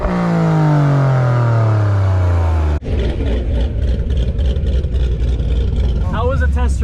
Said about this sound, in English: It's basically the best exhaust you can get for a Camaro.